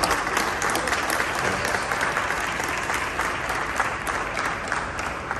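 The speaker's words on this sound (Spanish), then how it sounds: "Y eso merece un aplauso." Steady applause from a large audience at a press event in Los Angeles announcing the reunion of the Mexican group Los Bukis, a dense, even wash of clapping held for several seconds without letting up.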